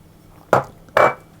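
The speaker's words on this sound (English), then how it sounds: "I'm going to take my flaked almonds and I'm going to sprinkle those over the top" Two short, close scattering bursts as flaked almonds are sprinkled over the top of an apple almond tart, each a brief rustle with quiet between.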